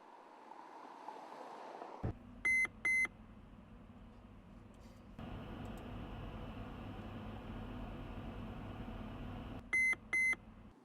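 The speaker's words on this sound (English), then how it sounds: "lane keeping assist, which is an acoustic warning when you stray from your lane" Lane keeping assist warning in a Hymer MLT 560 motorhome, with two pairs of short electronic beeps sounding clearly over a steady road and engine drone inside the cab.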